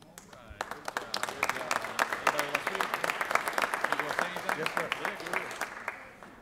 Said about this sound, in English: I hope you will join in giving them a round of applause when we're done here